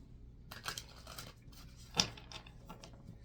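A deck of cards being shuffled, with soft riffling and flicking bursts and one sharp snap near the middle, quiet and close in an otherwise still room.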